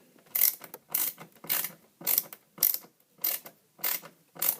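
Screwdriver driving a self-tapping threaded screw into a PlayStation 3 plastic casing, a close series of about nine evenly spaced ratcheting clicks and scrapes, heard alone.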